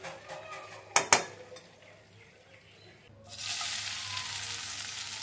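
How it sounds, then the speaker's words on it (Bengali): Chicken fries in oil; after a couple of sharp knocks and a quieter stretch, a loud, close, bright sizzle swells up and holds steady. "এবারে চিকেনগুলো ফ্রাই হয়ে গেছে"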